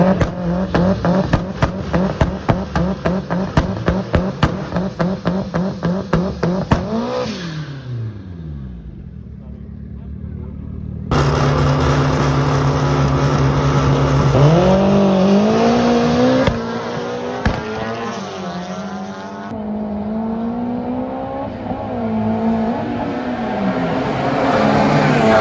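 Drag racing cars, a Honda and a BMW M4, heard at a South African strip: a rapid stuttering engine note fades, then a loud engine climbs in pitch through gear changes, with a commentator talking throughout.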